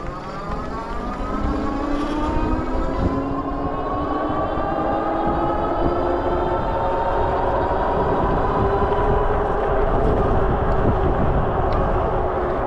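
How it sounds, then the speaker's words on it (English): RAEV Bullet e-bike riding at top speed under throttle only, a steady electric motor whine rising in pitch with loud rushing wind and road noise throughout, no talking. "I'm gonna do a max speed test, one on throttle and one with pedal assist"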